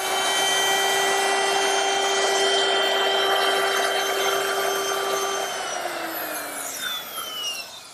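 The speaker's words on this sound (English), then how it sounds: "simply take my router and finish the dado." A router cuts a dado in wood while building a kitchen dresser, a loud, continuous high whine with a harsh cutting rasp that holds steady, then winds down as the motor spins down near the end.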